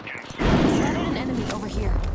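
Gunfire in the battle royale game Apex Legends during ranked play, a dense burst of shots starting about half a second in and continuing, mixed under a man's spoken callouts.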